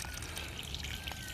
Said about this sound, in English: mushroom compost, and then just water it. Water it, water it, water it.